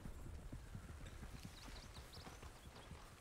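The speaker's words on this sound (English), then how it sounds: "That freaking horse made them all run away." Horse hooves clip-clop steadily at close range in the Red Dead Redemption 2 video game, a dense, continuous run of hoofbeats over outdoor ambience with faint high chirps, no talk.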